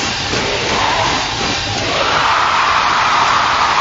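A packed arena crowd in Jamaica roars steadily for the New Zealand team at the 2003 World Netball Championships final, a dense sustained cheer that swells slightly toward the end.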